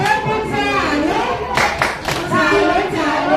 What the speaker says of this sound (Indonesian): Ya, kita kasih tepuk salut ya.